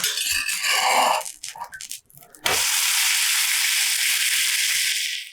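An onion dosa fries on a hot pan as oil is drizzled over it. A few light clinks give way to a loud, steady sizzling hiss that carries through to the end.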